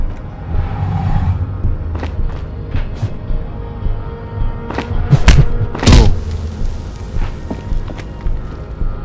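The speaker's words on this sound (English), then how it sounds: "The man lands with a dull thump, like a broken down puppet of muscles and sinew" A man's body lands with a dull thump in the Disco Elysium video game, heard as a series of heavy thuds and rumbles, the loudest impacts clustering near the end over a low background rumble.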